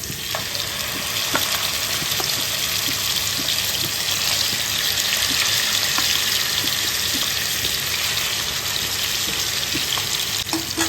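Chicken pieces frying in hot oil in a kadai, a steady close sizzle with faint stirring clicks and scrapes running throughout, no voices.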